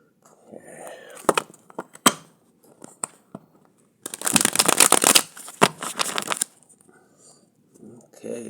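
Tarot cards being shuffled in several bursts, with quick riffling flurries, the longest in the middle, close to the microphone and with no talking.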